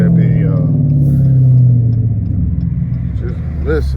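Catless Dodge Challenger R/T exhaust rumbles deep and loud while driving in traffic, a steady low drone swelling then easing, with a few faint pops near the end and brief talk over it.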